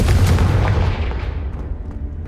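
Confringo fire spell blast from the Hogwarts Legacy video game: one loud, booming burst right at the start that rumbles on and slowly fades over about two seconds.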